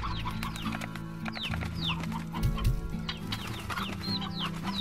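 A rooster clucks several times in the video game Slime Rancher, with short clucks and chirps over a steady game backdrop of bird calls and low hum, no talking.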